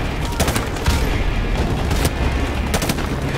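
Loud gunfire and blasts in a Call of Duty Modern Warfare Remastered firefight, a thrown grenade's explosion among repeated sharp shots, with no talk.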